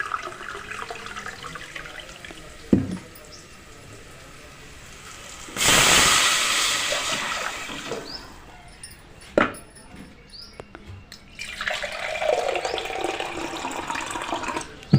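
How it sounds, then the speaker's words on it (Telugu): Water is poured into a container of rice while making Hyderabad-style bagara rice, a close splashing pour of a few seconds in the middle, with handling knocks before and after and a voice nearby. "వాటర్ వచ్చేసి దీని నిండా పోసుకోవాలి,"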